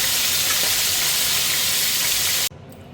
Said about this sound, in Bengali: মাছের মুড়োগুলো ভাজা হয় পরে